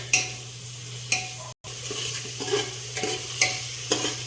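Chopped tomatoes with green chillies sautéing in a pan, a steady close sizzle with a low hum underneath and periodic sharp scrapes of a spatula stirring roughly every second.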